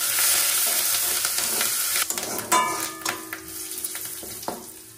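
Dried chillies, mustard seeds and curry leaves hit hot oil, giving a loud hissing sizzle that slowly fades, broken by crackles, pops and a few clinks of a stirring spoon against the pan.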